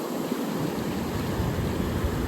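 Ocean waves roll in and out as a continuous broad wash of surf, loud and steady with no voices, the roar holding an even level throughout.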